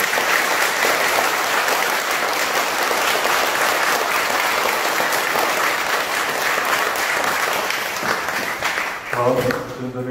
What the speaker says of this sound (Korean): 우리 스님께 감사의 뜻으로 뜨거운 박수 다시 한번 드립니다.